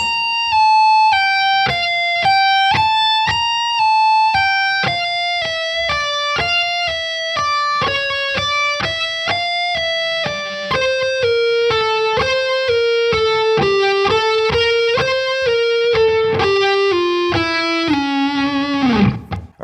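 Distorted electric guitar plays a fast descending lick of picked single notes with slides down the neck, moving steadily lower in pitch at a loud, even level, with no talking.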